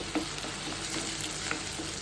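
Onion, ginger, garlic and green chilli sauté in a pan for a fish curry, a soft continuous sizzle with faint stirring scrapes, fairly quiet and without talk.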